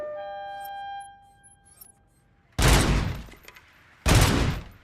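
Two loud, sharp gunshots at a shooting range in RoboCop: Rogue City, each followed by a short decay, after a fading electronic chime and near silence.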